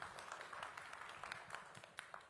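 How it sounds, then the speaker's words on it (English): Faint audience applause at a robotics and AI conference, a steady patter of scattered hand claps heard from a distance and staying at an even level throughout, with no voices over it. "Let's give him a warm round of applause,"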